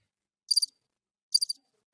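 A soundboard crickets effect plays two short chirping bursts, each a quick, high, trilling pulse pair, separated by near silence and with no one talking.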